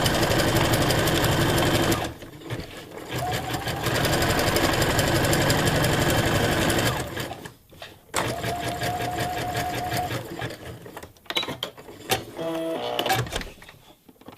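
A sewing machine runs a long, widely spaced zigzag stitch in bursts, its steady needle rattle stopping and starting several times with brief pauses between runs, close and clear.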